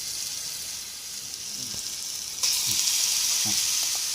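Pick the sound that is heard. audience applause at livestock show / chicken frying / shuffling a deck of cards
chicken frying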